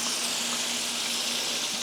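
Frog legs deep frying Carolina style in an old, generations-old pot of hot oil, giving a constant close bubbling hiss with no talk.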